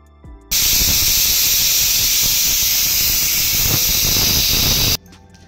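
Tempering spices sizzling loudly in hot oil in a kadai for dhaba-style egg tadka, a steady dense hiss that starts abruptly and holds for about four and a half seconds before cutting off.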